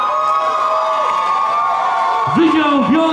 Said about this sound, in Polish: wielkie brawa dla nich, oni są pierwsi